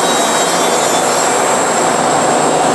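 Bandsaw with a 5 horsepower motor cutting through an aluminum forging: a loud, constant, close roar of blade and motor with a high whine, steady throughout with no talking.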